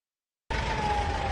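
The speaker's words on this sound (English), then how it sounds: "that's a siren alert that you can hear in this city as well." After a moment of silence, a steady wailing air raid siren starts abruptly during rocket attacks in an Israeli city and holds loudly over a wash of background noise.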